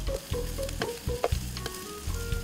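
Garlic frying in a pan during a cooking contest, with a steady close sizzle and occasional clinks and stirring scrapes.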